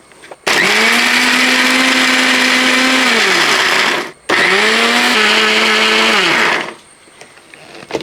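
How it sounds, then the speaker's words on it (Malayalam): A mixer grinder pulverises coconut, chili and salt for mango chutney in two long, loud, steady whirring bursts with a brief pause between them, the motor pitch sagging and shifting as the load changes. "ഇനി ഇതൊന്ന് നല്ല പോലെ പൊടിച്ചെടുക്കണം"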